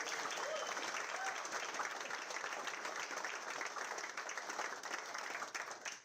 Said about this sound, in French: je veux leur donner une belle malle d'applaudissements